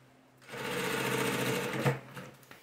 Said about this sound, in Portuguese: vou fazer a minha costura todinha